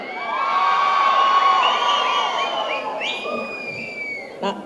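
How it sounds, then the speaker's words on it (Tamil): A studio audience cheers and whoops loudly for a TV serial actress on a Tamil television show stage, shrill excited voices rising and holding for several seconds, then thinning out before a short sharp burst at the end. "எங்கள் சின்னத்திரை நயன்தாரா அக்காவிற்கு ஒரு பெரிய கைத்தட்டல்."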